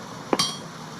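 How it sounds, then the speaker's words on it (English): A setting hammer strikes stone in the video game Vintage Story: one sharp, close clink with a bright ringing tail, alone against a quiet background. "then you use the setting hammer"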